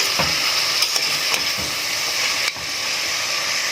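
Meat frying in a pan and being stirred, a steady loud sizzle with a few scraping stir strokes near the start, close up and without talk.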